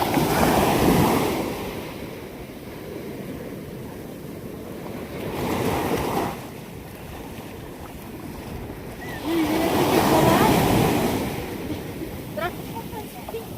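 Sea surf rolls onto the shore in slow surges, swelling loud around three big breaks and easing between them, with wind buffeting the microphone.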